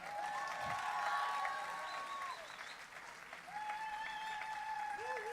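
An audience applauds at a live tribute concert at the Itributo 2018 festival: steady, sustained clapping from a crowd, with scattered whistles and voices rising over it.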